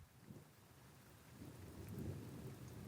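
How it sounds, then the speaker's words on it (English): Steady rain falls in a forest while low, rolling thunder rumbles through, swelling gradually louder toward the end with no voices present. "The rain adds another dimension."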